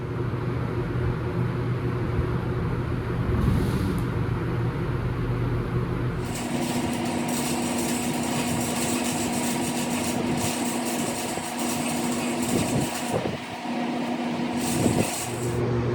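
A Ford F100 truck with a Crown Vic swap is driven into a shop, its engine idling and then shifting to a different running note, with steady motor hum and occasional knocks and rattles.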